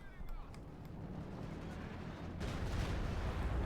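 Heavy B4 howitzer artillery firing in a Company of Heroes 2 battle, a deep rumbling boom that swells and sustains with dense low-end noise, heard amid game battle ambience.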